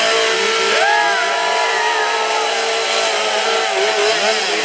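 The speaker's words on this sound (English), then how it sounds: "the guys are going to warm up these saws" Several chainsaws warming up at a lumberjack show drone loudly and continuously, their engines rising and falling in pitch as they rev together.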